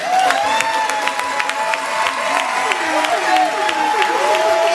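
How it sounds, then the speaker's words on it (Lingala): Loud audience applause and cheering at a Congolese television show, continuous dense clapping with crowd voices and high whoops layered over a host's amplified speech. "Applaudissez très fort."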